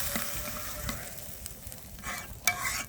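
An egg curry with a thin, runny gravy bubbles in a pot, giving a soft, steady simmering hiss with faint clicks and one sharper knock near the end, with no voices.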